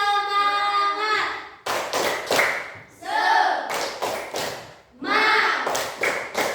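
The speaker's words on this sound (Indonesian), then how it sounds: "Untuk menambah semangat lagi dengan ice breaking, tepuk semangat." A school class performs a rhythmic clapping chant as an icebreaker, children's voices chanting in bursts between crisp, patterned rounds of claps and taps, loud and close, repeating in short cycles.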